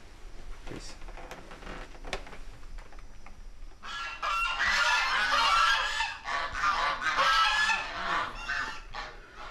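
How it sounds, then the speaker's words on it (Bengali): After a quiet start, a recording of a duck bursts into loud, rapid, repeated quacking that continues in honking runs to the end. "এখানে হাঁসের প্যাক প্যাক ডাক রেকর্ড করা আছে"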